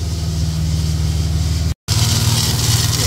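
A Ford Falcon EF XR6 engine idles with a rattly power steering pump, a steady close mechanical churn that cuts out briefly midway and then resumes, with no voices over it.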